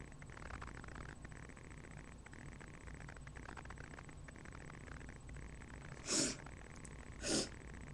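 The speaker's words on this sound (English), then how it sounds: "Sorry if I have the sniffles." Two short, sharp sniffles close to the mic, spaced about a second apart, over a quiet background hiss.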